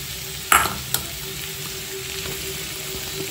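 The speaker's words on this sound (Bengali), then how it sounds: "এবার পেঁয়াজটা দিয়ে দেবো।" Chopped onions drop into a hot pan of cooked vegetables and get stirred, a sharp clatter followed by a lighter scrape, then a quiet continuous sizzle underneath, close by with no speech.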